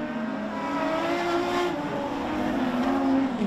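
Production sedan race cars thunder down the main straight at Hamilton Speedway during a national title heat, engines droning loud and steady with shifting harmonic whine as the pack passes close.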